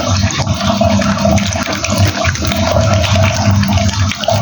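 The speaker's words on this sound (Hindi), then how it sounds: "अब हम लगे हैं सेब को धोने, एक एक को धोकर रखते जाएंगे।" Apples are washed one by one under a running kitchen tap to make murabba, giving a loud, continuous rush and splash of water close by.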